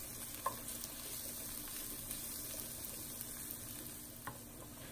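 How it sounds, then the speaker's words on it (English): Minced garlic cooking in a pan over medium heat for olive spinach pasta, a faint, even sizzle with occasional light clicks of stirring, close but quiet, with no talking. "Then add your minced garlic. Stir it around and continue to cook for another 2 minutes over medium heat."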